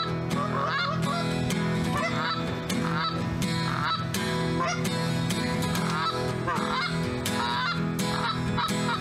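A large flock of snow geese honks nonstop during a February goose hunt, a dense, loud chorus of overlapping calls filling the whole stretch without talk.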